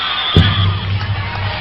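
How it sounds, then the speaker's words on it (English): Spectators at a USA versus Canada lacrosse world championship final roar and cheer in a dense, sustained wash of crowd noise, with a sharp thump near the start. "The crowd really lifting now"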